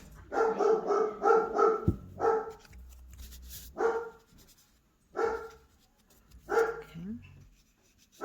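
A house dog objecting to a delivery barks loudly and close by, first in a quick string of barks, then in separate spaced outbursts with quiet gaps between them.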